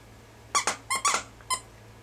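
Plush squeaky dog toy squeezed in a quick run of five sharp, high squeaks, two close pairs and a lone final one, set against a low steady room hum.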